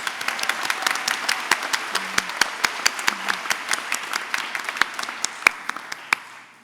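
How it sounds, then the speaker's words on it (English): A college commencement audience applauds after a performance, a sustained crowd clapping with distinct sharp claps punctuating it in a quick, uneven rhythm, gradually tapering at the end. "we give one more round of applause for that amazing performance?"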